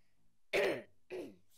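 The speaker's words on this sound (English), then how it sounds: "just had a pretty bad cough" Two short, rough coughs close by, the first louder and longer, separated by a brief pause.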